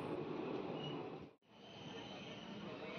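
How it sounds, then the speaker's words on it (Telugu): Steady rumbling rail noise of the Kacheguda to Chengalpattu train running on the adjacent track, loud and continuous with a brief drop near the middle before the roar resumes. "ఈ పక్కన ట్రాక్లో చూస్తుంటే ఒక ట్రైన్ అయితే నేను నోటీస్ చేశాను"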